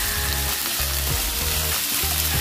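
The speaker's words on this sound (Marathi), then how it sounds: "परतवायचं 5 मिनिटं, लगेच आपल्याला शिमला मिरची पण घालायची आहे।" Capsicum and onion stir-fry in a hot pan on high heat for chicken chilli, a loud, steady sizzle with rhythmic bursts of stirring scrapes, close up and with no talking.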